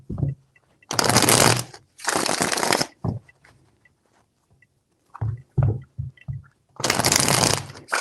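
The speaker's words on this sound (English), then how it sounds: "4 shuffles." Tarot cards shuffled in bursts, three long riffling passes split by short pauses and a few soft taps and handling sounds, close and alone with no talk.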